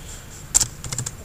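A short burst of keystrokes on a computer keyboard as a title is typed, a handful of quick close clicks over a faint background hum, no voices.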